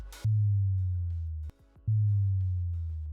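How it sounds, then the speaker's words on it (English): A deep sub-bass drop in a hardstyle buildup, sounding twice, each sustained boom decaying slowly, separated by a brief gap with a few short hits. "we have a sub drop,"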